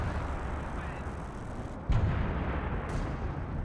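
Artillery shells land amid a Company of Heroes 2 battle: a continuous roar of distant battlefield noise, with a heavier impact thump near the two-second mark and a fainter crack about a second later.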